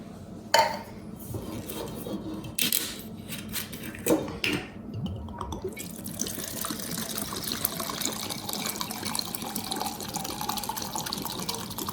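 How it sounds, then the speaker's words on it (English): A can of Coco Lopez cream of coconut is poured into a blender. Thick liquid glugs and splashes with a few metallic clinks, then a steady pouring gush runs for several seconds. "a can of this cream of coconut, Coco Lopez, going right in"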